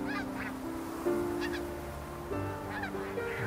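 Flock of snow geese calling as they fly in over a goose hunt on Hudson Bay, Canada: a dense chorus of overlapping honks and yelps, fairly close and steady throughout.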